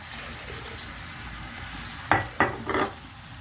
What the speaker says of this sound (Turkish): Bu şekilde kavruluyor.